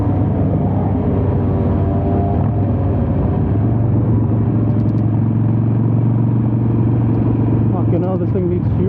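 Steady motorcycle engine drone on a morning group ride with friends, a continuous low rumble throughout, with faint talk near the end.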